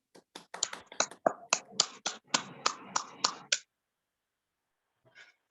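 A small audience at a morning session on dream building clapping to welcome a speaker: sharp, separate claps in a loose rhythm that end abruptly, followed by silence and a brief faint sound.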